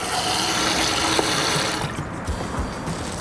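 Water runs from the outdoor shower at the back door of a van's compact water system while the pump repressurizes, a steady moderate hiss and splash that thins out partway through.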